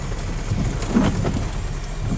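Heavy rain during a windy storm in Las Vegas, a steady broadband hiss of downpour with a brief swell near the middle, heard from inside a car stopped at a traffic light.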